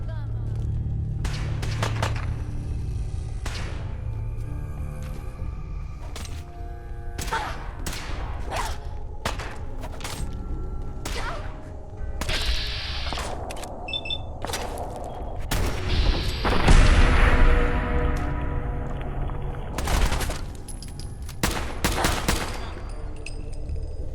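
Rapid, dense gunfire from Fallout 4 combat, with repeated sharp shots and automatic bursts running throughout, building to heavier blasts near the end, while voices talk over the shooting.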